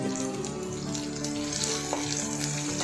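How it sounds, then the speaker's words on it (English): Ginger, garlic and chili paste with cumin seeds fry in a hot pan with a steady, dense sizzle and crackle, close and continuous throughout. "After this, add ginger, garlic and chili paste and stir it well with cumin seeds."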